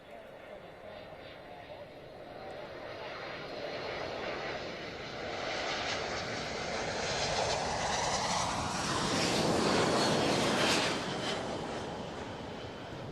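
A C-17 military transport jet on its landing approach swells from a distant rumble into a loud, broad roar that peaks and then begins to fade as it passes.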